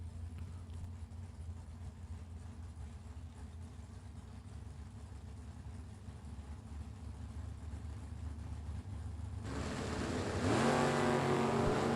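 Drag racing cars, one a Mustang, on a strip at a Super Pro bracket race: a low steady idle rumble holds for several seconds, then swells into a loud engine roar as they launch near the end.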